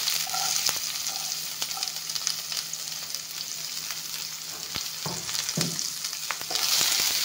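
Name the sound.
onion and garlic frying with five-spice in pan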